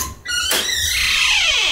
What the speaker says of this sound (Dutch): het volgende shot dat ik de deur open doe